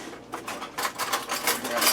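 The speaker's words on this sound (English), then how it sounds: "I'm going to stir this up and taste it for seasoning." A metal spoon stirs soup in a non-stick pressure cooker pot, giving a rapid series of light scraping and clinking strokes that grow slightly louder toward the end.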